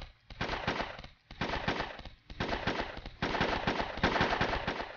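The G-man tower unit opens fire in Roblox Toilet Tower Defense during a Halloween event: four or five rapid machine-gun-like bursts, close and steady, separated by brief pauses.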